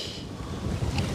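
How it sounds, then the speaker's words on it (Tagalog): Strong wind roars and buffets the microphone in a steady, rumbling gust that swells slightly near the end. "Grabe, lakas ng hangin."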